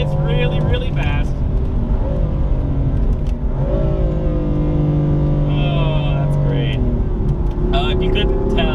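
A Dinan S2 tuned BMW M4 with a 7-speed DCT gearbox accelerates hard, engine note climbing and shifting through gears under continuous talk from inside the car.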